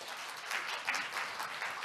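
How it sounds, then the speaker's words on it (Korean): A conference audience at a forestry outlook session applauds a speaker's introduction, a soft, even patter of many hands that sounds faint and distant. "박수로 부탁드리겠습니다."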